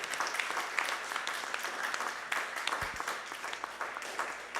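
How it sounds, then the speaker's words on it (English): Audience applause for a band at a local live-music broadcast, a sustained, dense clapping that fills the room evenly from start to finish, with no talk over it. "Let's give them one more applause."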